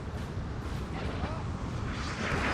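Howitzer artillery fire in the Napoleon: Total War battle game, a dense continuous roar of booming cannon shots rolling together at high volume.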